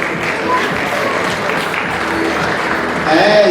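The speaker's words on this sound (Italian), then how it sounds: "Gli applausi insomma ci stanno." Audience applause at the Miss Graticolato Romano beauty pageant in Borgoricco, Padova, a loud sustained burst of clapping that swells slightly near the end, with voices mixed in.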